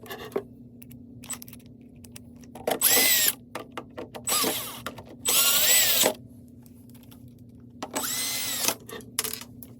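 Screws being driven into a Juki TL sewing machine with a power driver, several short whirring bursts of one to two seconds separated by quieter handling and clicks, close and loud.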